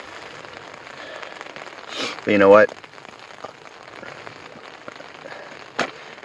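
Rain patters steadily on a tent at a spring ice-out camp in Algonquin Park, a soft continuous hiss of drops with a brief spoken phrase partway through and a faint tap near the end.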